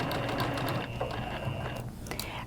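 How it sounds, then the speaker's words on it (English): A sewing machine runs in a quick, steady rattle as it stitches fabric for a reversible dog bandana at a 1/8 inch seam, close and loud with no talking. "I'm just going to stitch all the way down with a 1/8 inch"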